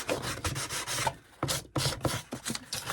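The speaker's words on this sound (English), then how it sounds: "So I'm going to use my sanding block because I can't find my sandpaper." A sanding block scuffs the surface of a thrifted home decor piece in short, quick rubbing strokes, soft and close, with brief pauses between bursts.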